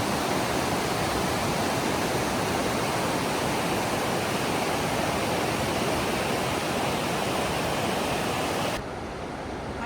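Rapids on Upper McDonald Creek in Glacier National Park rush toward the falls with a loud, steady, broadband roar that holds without a break, with no voices over it.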